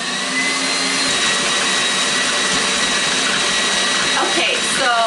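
Cream churning into butter at room temperature, with liquid starting to splatter: a loud, steady whirring machine drone holds throughout, with faint wet sloshing mixed in and no talking.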